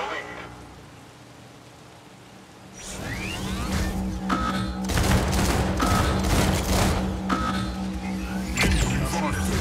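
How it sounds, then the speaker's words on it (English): Heavy gunfire in the Mech Arena robot battle game swells into a dense, loud barrage of rapid shots and blasts that starts after a quieter stretch and continues steadily, with a voice speaking over the fighting. "Incoming fire!"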